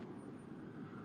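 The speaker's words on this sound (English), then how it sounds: "Oh, there's a helicopter following us." A helicopter passes overhead outdoors during a street rally in Calgary, its steady rotor drone holding loud and continuous throughout the short moment with no voices over it.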